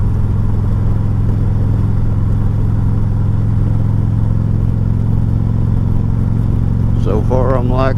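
2017 Harley-Davidson Tri Glide Convertible trike with a lift kit, engine heard while riding: a loud, steady low rumble with constant road and wind noise, and a rider's voice joining briefly near the end.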